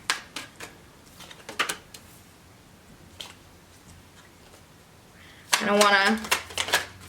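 Cards are handled and drawn from a deck during a tarot-style reading, with scattered soft snaps and riffling clicks early on and a louder burst of card flicking near the end, while a person briefly speaks.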